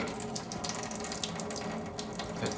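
Tap water runs steadily from a faucet to rinse a Brita filter, a continuous close splashing hiss with no pauses and no talk.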